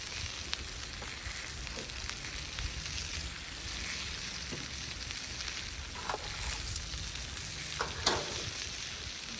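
Bacon frying on a flat-top griddle for Sunday brunch, a steady, close hiss and crackle with scattered pops and small scraping ticks throughout.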